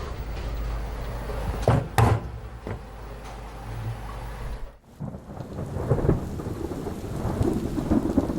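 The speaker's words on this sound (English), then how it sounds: "Storms rumbling in off the horizon." Thunder rumbles and cracks through a steady wash of rain, with a few sharp bursts early on, then a rolling low rumble fading out.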